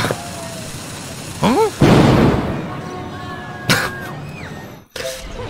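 A single sharp gunshot blast rings out in the PS2 racing game Crash Tag Team Racing and trails off into a noisy decay, surrounded by chirpy cartoon game effects and a few short pops.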